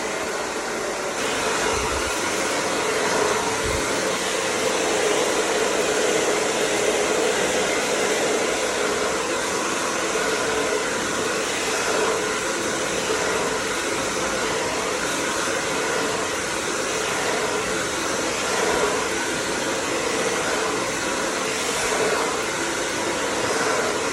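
A hair dryer blows steadily while hair is blow-dried after a feather razor cut, a loud, continuous whooshing roar close by that holds evenly throughout with no talk.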